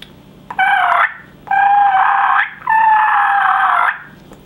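A turkey purr, imitated by a hunter on a reed mouth call while gargling in the throat, comes as three sustained, loud, close rolling tones separated by short gaps.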